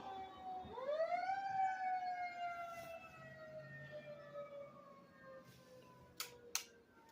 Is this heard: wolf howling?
no